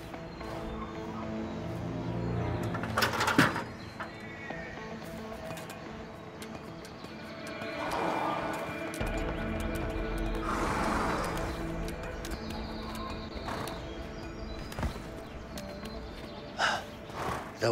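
Horses neigh and whinny inside a barn in the video game A Way Out, with snorts and gasping breaths scattered across a busy game soundscape; several distinct calls rise at moderate distance without talk.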